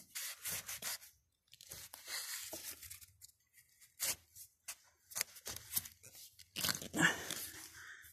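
A blade cuts and saws through the fibrous base of a Rajapuri banana offshoot where it joins the mother plant. The rubbing, crunching strokes come in irregular bursts with pauses between them, close by and fairly faint.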